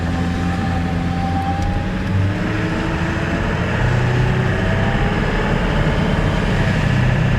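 A 1999 Ford F350 truck with a 7.3L PowerStroke diesel engine driving, with a steady loud low engine drone and shifting rumble heard from inside the cab, without talk.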